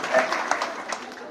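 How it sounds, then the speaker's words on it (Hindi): Audience members at a Ramlila performance break into moderate applause, a scattered patter of claps with speech mixed in, fading slightly toward the end. "जोरदार तालियां बजा करके बताइए कि हाँ आवाज आ रही है।"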